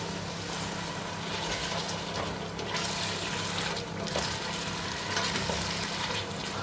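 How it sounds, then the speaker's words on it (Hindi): Cubed potatoes fry in a pan for an aloo palak dish, giving a continuous loud sizzle with a few faint stirring scrapes and no talking. "आलू अच्छे से भुन गए हैं।"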